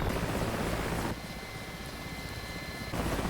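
Mi-24 Hind helicopters in the DCS World flight simulation game, a continuous roaring rotor and turbine drone, loud and steady, easing briefly quieter in the middle before returning.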